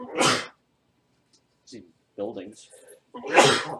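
A sneeze bursts out loudly at the start during a tabletop role-playing game session, followed by people talking nearby, then a second strong sneeze near the end.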